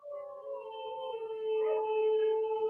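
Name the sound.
huskies howling next door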